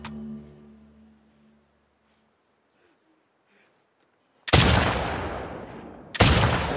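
Two loud, abrupt gunshot blasts in The Last of Us Part II, each decaying into a long echoing tail, following a near-silent pause after a short low hum.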